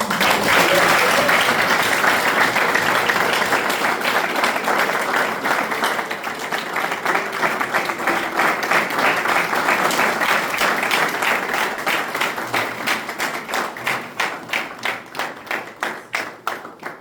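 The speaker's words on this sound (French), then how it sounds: "Applaudissez." A crowd at a foundation key-handover ceremony claps loudly and continuously, the applause thinning in the final seconds into a slower, rhythmic clapping with some voices underneath.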